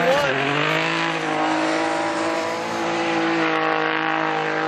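A Nissan Z with a VR engine and Linglong tires drifting at Formula Drift Japan, giving a loud, sustained, near engine roar at high revs with slight pitch dips and tire noise throughout, with a commentator talking over it.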